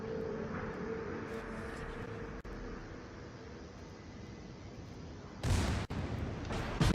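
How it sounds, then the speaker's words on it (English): Warship secondary guns and forward cannons fire in the World of Warships naval battle game, a steady engine and sea rumble broken by sharp blasts and a loud burst of cannon fire near the end. "Secondaries open up. Forward cannons fire."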